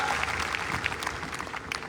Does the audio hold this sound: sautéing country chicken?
no